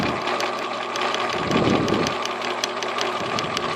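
Bernina sewing machine stitching a decorative pattern, a loud, close, steady mechanical whir with rapid needle ticking and a brief change in tone partway through.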